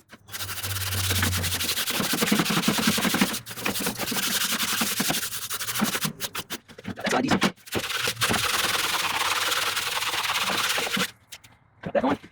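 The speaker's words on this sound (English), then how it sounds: "use one of my scrubber tools that I typically use to clean the grill grates" Scrubber tool for grill grates scrubbing inside a gas grill during a deep clean, a loud, close rasping scrape in long continuous strokes with short pauses, while a person talks over it.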